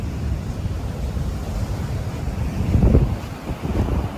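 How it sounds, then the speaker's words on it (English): Ocean waves break on a Hawaii beach, a dense rushing surf roar mixed with wind buffeting the microphone, swelling as a wave crashes near the end, with no talking. "looking at those waves, and this is just on a normal day, definitely not going swimming"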